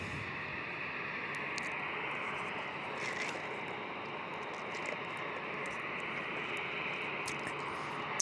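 A plane taking off at San Diego International Airport, heard as a steady, broad engine roar that holds at a constant level throughout, with faint higher tones above the rumble.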